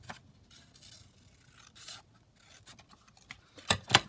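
Paper for a junk journal is cut and trimmed with scissors, giving soft rubbing snips followed by two sharper, louder cuts near the end, close and quiet.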